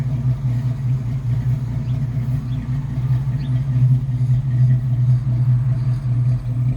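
A Jeep Wrangler YJ engine idles roughly with a loud, throaty exhaust drone, steady and rumbling, continuous and close throughout.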